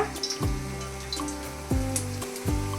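Hot cooking oil sizzles in a small wide pan on a stove, ready for onions: a steady close hiss with a few sharp metallic clinks and taps over it.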